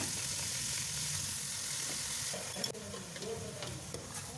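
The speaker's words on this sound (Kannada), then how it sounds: "ಈ ರೀತಿ ಎಣ್ಣೆಯಲ್ಲಿ ಸುಮಾರು 1 ನಿಮಿಷ ತನಕ ಫ್ರೈ ಮಾಡ್ಕೊಬೇಕು" Washed chicken pieces fry in a little oil in a pot, a close, continuous sizzle with scraping stirs that become more distinct in the second half.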